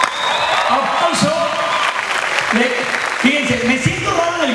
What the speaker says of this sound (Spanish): un aplauso a usted